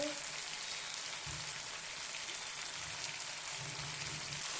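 Vegetables frying with salt in a pan give a faint, even crackling sizzle that carries steadily under a low background hum, with a few soft stirring knocks and no clear speech.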